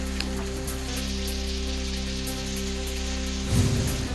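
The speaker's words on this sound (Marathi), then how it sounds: "बागलाण तालुक्यात झालेल्या गारपिटीने आणि वादळी पावसाने संपूर्ण तालुक्याला झोडपलं" Heavy unseasonal rain and hail lash Baglan taluka in a steady pattering hiss over a low mechanical hum, swelling into a louder, rougher burst near the end.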